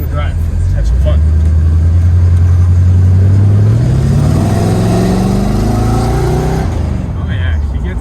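A 1981 Chevrolet Corvette accelerates on a drive, the engine heard from inside rising steadily in pitch, loud and close throughout, then easing off near the end.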